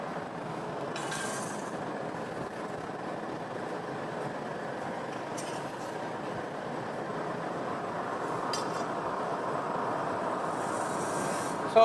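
A train rolls past with a steady, continuous rumble and rail noise throughout, with a few brief hissing bursts and no voices.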